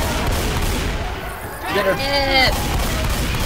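Sustained gunfire aimed at the Tank in Left 4 Dead 2, a dense, continuous rattle of shots with a rising growl midway, all under a player's brief talk.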